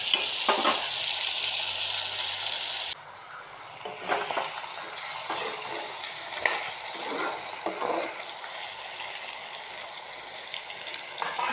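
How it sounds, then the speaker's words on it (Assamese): Pork and small potatoes frying in a pan, a continuous loud sizzle punctuated by stirring scrapes and clatters, with no talking. "মাংস আৰু আলু সিজিছে"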